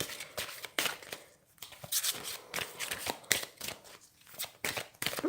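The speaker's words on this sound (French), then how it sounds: "Je vais faire un petit tirage aussi avec l'oracle des anges de l'amour." Oracle cards being shuffled by hand for a love card reading, a close, quiet run of rapid riffling bursts and soft slaps with brief pauses between, no voice.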